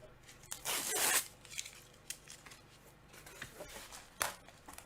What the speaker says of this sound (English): That's the tape off.